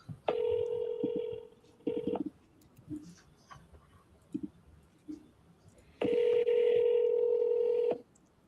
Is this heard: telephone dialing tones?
yes